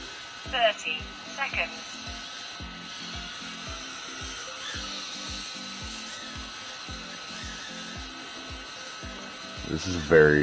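NewBeeDrone Hummingbird V1 micro quadcopter flying low, a steady, fairly quiet high-pitched buzz from small motors holding on throughout, with a few sharper spikes near the start and end.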